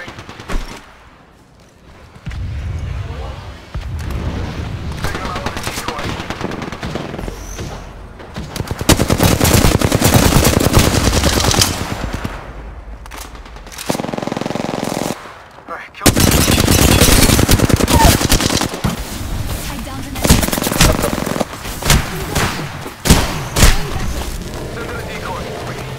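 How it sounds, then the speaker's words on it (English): Rapid automatic gunfire and heavy booms from the video game Apex Legends come in loud, sustained bursts with short pauses between volleys, and a player speaks over the shooting. "Darn, shots fired and they're hitting me."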